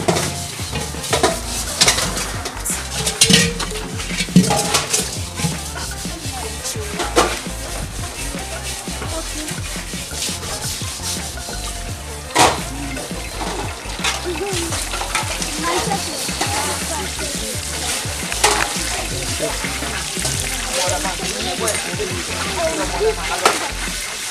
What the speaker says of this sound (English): The oil is now ready, so I'm going to fry it.